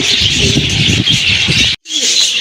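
A pair of pigeons coo with a soft, continuous low burbling among other birds, close and fairly loud, interrupted by a brief break near the end.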